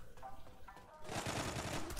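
Gunfire in the shooter game Zula, a few quiet scattered shots giving way to a dense, louder burst of rapid fire.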